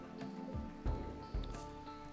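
Rain in the RimWorld video game, a soft, steady patter of falling drops with a couple of duller thuds, quiet and without any voices.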